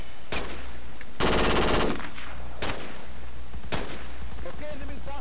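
Bursts of automatic gunfire in the military shooter game Project Reality, loud close rapid rattles separated by short pauses, with faint radio-like voices in the background.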